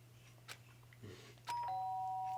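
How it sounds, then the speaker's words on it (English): A doorbell chime rings in the video game Danganronpa Trigger Happy Havoc: a few soft clicks, then a sustained electronic tone that holds to the end over a low steady hum. "Ding dong."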